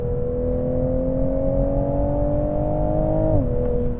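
A turbocharged 2021 Toyota GR Supra engine pulls hard under acceleration, its steady rising drone climbing smoothly in pitch before a brief dip at a gear change, loud and close with no talking.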